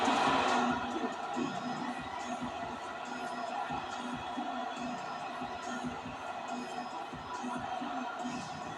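A large arena crowd in the NBA 2K basketball video game cheers and roars during a playoff game at the American Airlines Arena, with a loud swell at the start that settles into a steady, noisy din.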